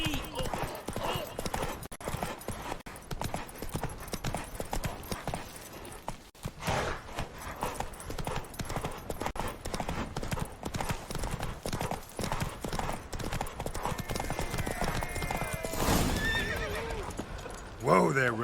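Roach, the horse in The Witcher 3: Wild Hunt, trots with a steady clip-clop of hooves and gives a clear whinny near the end, all close and under game voices speaking.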